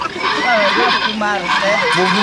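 A battery-powered toy unicorn at a flea market gives an electronic, horse-like whinny, a series of wavering warbling neighs that fill the short stretch loudly and up close.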